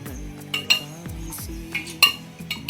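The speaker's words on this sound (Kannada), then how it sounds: "ಒಂದು ದೊಡ್ಡ ಪಾತ್ರೆ ಇಡೋಣ" Metal cookware clanks and clinks as a large cooking pot is set down on a stove, several sharp knocks spaced unevenly and close by.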